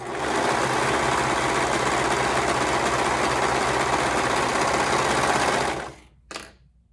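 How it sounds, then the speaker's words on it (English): A sewing machine runs continuously and loudly as it stitches the long edge of a fabric cuff loop with a half-inch seam allowance, then stops, followed by one brief short burst. "sew the long edge together with right sides together using a 1/2 inch seam allowance"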